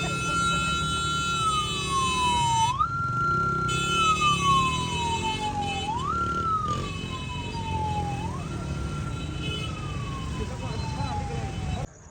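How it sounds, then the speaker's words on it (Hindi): An ambulance stuck on a road wails with a repeating descending siren, steady and fairly loud across the whole stretch, cycling about every two and a half seconds over traffic noise. "एम्बुलेंस फंस गई है जी रोड में।"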